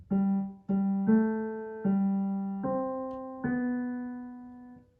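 A keyboard plays the opening line of Happy Birthday, six sustained notes, each struck separately and left ringing, clear and alone with no voices.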